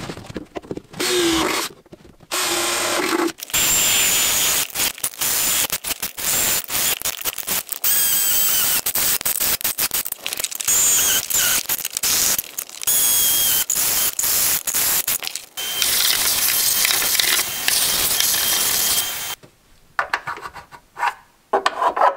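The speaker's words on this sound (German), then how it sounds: "Ich werde erstmal mit 5 mm vorbohren und dann mit einem Stufenbohrer auf 18 mm" A step drill bit widens holes in the body of an Opel Astra H for a tow hitch. The sound is a loud, close, continuous grinding and whirring that runs in long bursts separated by short pauses.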